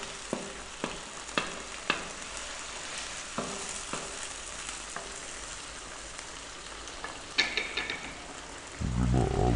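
Garlic ginger paste hits a hot pan while cooking a lentil dish, with scattered crackles and pops building into a sudden louder sizzle near the end, no talking.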